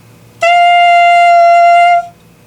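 A beginner blows through a clarinet mouthpiece and reed, producing a single loud, sustained squeaky tone that starts suddenly, holds steady for about a second and a half, then stops.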